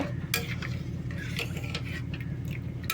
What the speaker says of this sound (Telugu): తిప్పుతూ ఉండాలండి మధ్య మధ్యలో అడుగంటకుండా ఉండలు కట్టకుండా ఉంటుంది